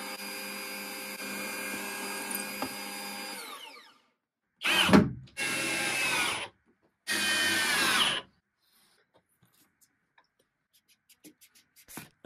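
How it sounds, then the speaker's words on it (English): A drill press bores holes in a wooden dresser: one long steady whine, then two separate short loud bursts of drilling, each ending abruptly, followed by near silence with faint ticks. "I used my drill press to drill the holes"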